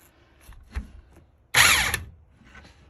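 A spring compressor is tightened with a power tool onto a Honda CR-V coilover shock: one loud whirring burst of about half a second, after a few faint clunks and ahead of quieter handling noise.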